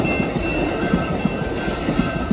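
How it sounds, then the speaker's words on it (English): Amtrak San Joaquin passenger train rolling past up close at a Fresno crossing, a loud continuous rumble with rhythmic clickety-clack wheel beats over the rails and a faint steady whine. "Look at that train, folks."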